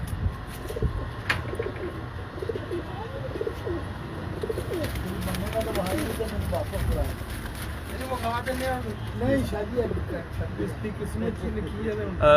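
Doves coo repeatedly with soft, throaty rolling calls, close by, while people talk in the background; a cross of Ferozpuri and Kasuri pigeons.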